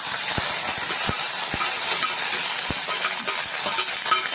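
Onions sautéing in a pan while cooking appam and curry, with a steady close hiss of frying under repeated clicks and scrapes of a spoon stirring, and no talking.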